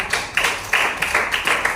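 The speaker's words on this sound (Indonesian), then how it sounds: "Silakan tepuk tangan buat Fitri" Classroom students clap for a classmate in a short, close burst of applause from a small group, with uneven rhythmic claps pulsing for under two seconds.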